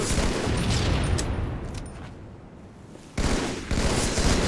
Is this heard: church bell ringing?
no